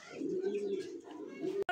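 Pigeons coo in a steady, low, continuous murmur close by, the birds being light-coloured fancy pigeons with red eyes, kept as breeding stock for sale; no one speaks.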